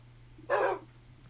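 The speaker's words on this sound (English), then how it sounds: "Good in-sync barking" Two dogs in the Minecraft video game bark together as one brief, clear, fairly loud bark over a quiet low hum.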